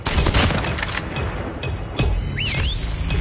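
Gunfire from a DLQ sniper rifle in Call of Duty Mobile: loud sharp shots and dense battle noise, with a rising synthetic whistle near the end.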